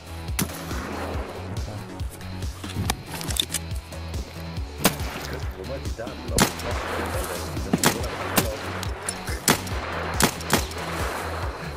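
Escape from Tarkov gunfire cracks in irregular shots and short bursts, with a jam on the second shot, over a low, steady background hum, sharp and fairly close.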